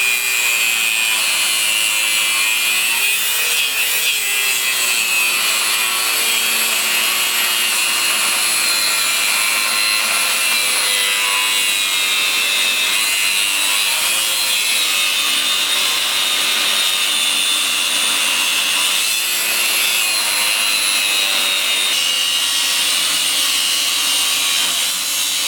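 A disc cutter grinds through mild steel clamped in a vise, a loud, continuous high-pitched screech and whine held steadily throughout without pauses.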